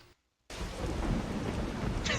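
Rain pours steadily with low thunder rumbling beneath it in the video game Tender Loving Care, starting abruptly after a moment of silence and swelling into a brief louder crack at the end.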